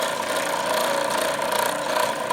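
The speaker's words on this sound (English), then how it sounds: "Motor's got a bit of vibration to it. It's turning." Electric motor on a homemade food shredder runs steadily with a vibrating hum and whine, close and continuous, without talk.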